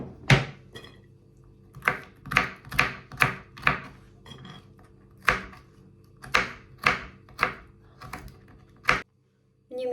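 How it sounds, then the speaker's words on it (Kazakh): Walnuts being chopped with a knife on a board while making a fruit salad, a run of sharp, close knocks in quick bursts with short pauses between them. "Мен барлық жаңғақты турап алдым."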